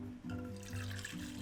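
Coffee pours into oat milk in a steady, soft liquid stream with gentle gurgling, faint and close, with no voices.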